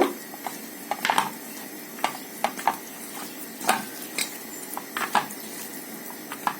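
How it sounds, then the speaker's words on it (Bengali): Batter of chopped jute leaves and rice flour being mixed by hand for fritters, giving close, irregular wet squelches and light clicks against a bowl, with sharper taps every second or so and no talking. "এখন আমি ব্যাটারটা মেখে নিব।"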